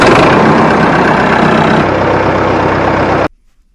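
A Massey Ferguson 245 tractor engine with an 8-foot flail mower attached idles with a loud, steady rumble close by, then cuts off abruptly, leaving near silence.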